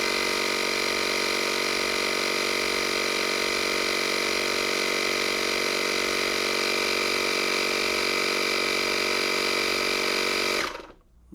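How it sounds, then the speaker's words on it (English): A Lakalum portable car tire air pump compressor runs with a steady, loud mechanical buzz and hum, continuous and alone, then cuts off abruptly near the end. "So now I'm just going to flip it on. So it's filling up pretty quick, and it is it's not really that loud"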